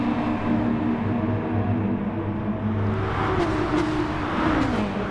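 Mercedes-Benz race car engine in Gran Turismo Sport, a loud droning engine note that holds steady and then sweeps in pitch as the car shifts and accelerates near a double chicane.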